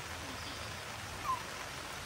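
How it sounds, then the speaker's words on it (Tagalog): Heavy rain from a storm pours down on a family campsite in Tuy, Batangas, a steady, even hiss of falling water with no break, heard from inside or near the shelter. "hindi naman namin anticipate na ganito kalakas yung ulan"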